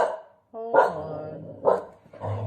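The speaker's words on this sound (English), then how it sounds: "my dog is barking" A pet watchdog barks nearby indoors, giving about three sharp, loud barks in quick succession.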